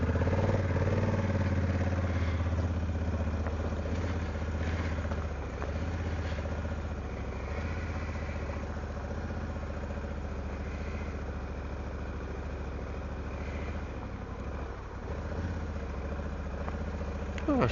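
A motorcycle engine idles steadily and fairly quietly on an unsurfaced country lane in Dorset, a low continuous rumble with faint clatter throughout.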